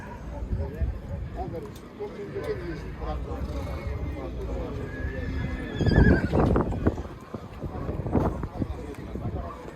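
Horses and young foals whinny and hooves clop amid a crowd's chatter, with people talking nearby at an outdoor livestock market in Kyzylorda.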